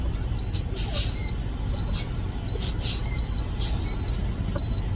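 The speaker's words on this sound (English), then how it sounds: "This thing has a air supplied clutch, so every time that clutch gets pushed in, it squeaks and squeaks back." Air-supplied clutch on a semi truck squeaking in repeated short bursts amid loud, steady engine and cab noise, with several sharp high chirps spaced through the stretch.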